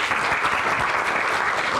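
Dense, steady audience applause welcoming a doctor to the stage at a regenerative medicine forum, a loud continuous wash of many hands clapping alone with no voices.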